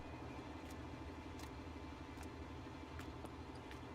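A Case 7230 tractor engine idles in Farming Simulator 19, a low, even diesel rumble with a steady pulsing throb, close and constant, punctuated by a few faint clicks.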